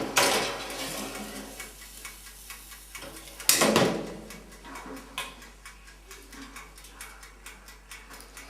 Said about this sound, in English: We're going to put it in the preheated oven for about 35 minutes